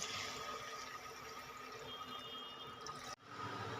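Water pours steadily into a pot of cooking potato curry, a continuous splashing wash that cuts off sharply near the end.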